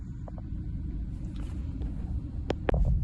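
A blue car drives along with a low, steady interior rumble, and a few faint clicks and knocks come near the end.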